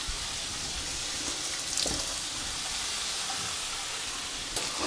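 Bacon frying in a pan, a steady loud hiss and sizzle that runs unbroken throughout, with a few faint pops and no talking.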